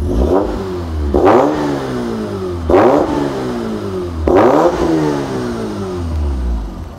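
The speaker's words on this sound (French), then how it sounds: "Allez, vas-y, mets un ou deux coups de gaz." A rotary-engine car is blipped three or four times from idle, each sharp rev rising quickly and falling back to a rough, buzzy idle, loud and close.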